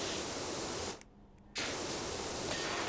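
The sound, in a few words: spraying water through gaps, from a video game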